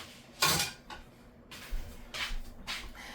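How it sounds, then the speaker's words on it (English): A metal spoon is lifted out from among kitchen dishes and utensils to serve a home-cooked plate of rice, ribs and beans, giving several quiet, close clinks and clatters spread over a few seconds. "Take out my spoon."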